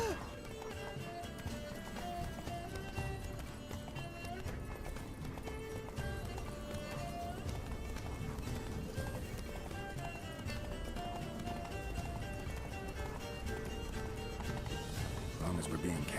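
Roach, Geralt's horse in The Witcher 3, gallops in steady rhythmic hoofbeats throughout, blended with music and game ambience while voices talk over it.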